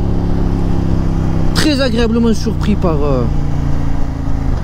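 A CFMOTO 800MT 2023 touring motorcycle with its KTM-built engine, a steady low drone while riding, with someone talking over it for a couple of seconds.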